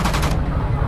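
Gunfire in the WWII Online shooter game crackles in a dense, loud, rapid burst that cuts off partway through.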